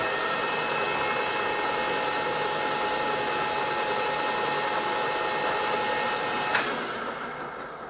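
A lathe with a badly wobbling pulley runs steadily with a continuous mechanical whir and faint rhythmic knocking, close by, then a brief clank near the end as it winds down slightly.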